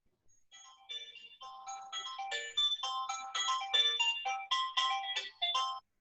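A mobile phone rings in a quiet classroom, a bright electronic melody of short repeated tonal bursts that grows louder over several seconds before cutting off.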